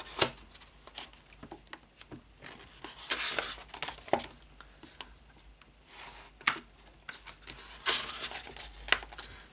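Pages of an illustrated booklet on ancient Egypt are flipped by hand, giving soft papery rustles and crisp turns that come in irregular bursts, close up and fairly quiet, with no talking.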